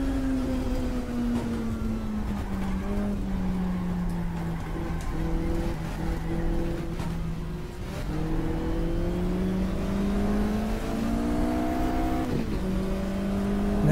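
Racing car engine in the sim game GTR2 on the Linas-Montlhéry circuit, chasing a Porsche 914: a steady droning engine note that rises and falls through gear changes, held at a constant loud level throughout with no talking.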